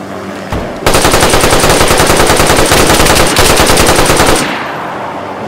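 Gunfire in the video game DayZ: a loud, sustained stream of rapid shots, evenly spaced, pounding for several seconds before cutting off into a lingering echo.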